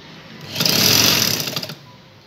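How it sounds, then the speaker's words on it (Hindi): A single short run of a sewing machine stitching a churidar pajama, swelling up loud and close for about a second before fading out. "एक साइड से सिलाई लग गई है"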